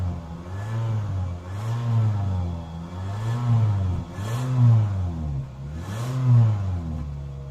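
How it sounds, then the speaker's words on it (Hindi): A 1300cc Toyota Probox engine revved repeatedly: four or five rising and falling blips, each climbing and dropping back to a steady idle in a regular rhythm, loud and close with no voices over it. "तो अब गाड़ी का साउंड मैं आप लोग को चेक करवाता हूँ।"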